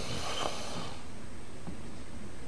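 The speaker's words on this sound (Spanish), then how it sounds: "Se escucha a alguien de roncar, tío." A character in the stealth game Thief snores nearby, one loud rasping breath that fades, then a fainter snort follows a moment later in an otherwise quiet room.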